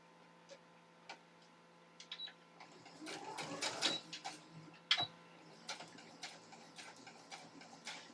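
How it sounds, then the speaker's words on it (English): A smooth-running sewing machine stitching in reverse gives quiet, rapid mechanical ticking with a louder burst of clatter in the middle and a few sharp clicks, heard alone in a quiet room. "So now I want to do the reverse stitching to make sure that works."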